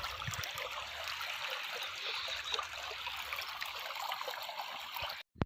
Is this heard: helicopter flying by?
no